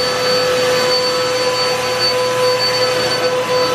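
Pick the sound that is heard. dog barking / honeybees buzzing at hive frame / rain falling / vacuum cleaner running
vacuum cleaner running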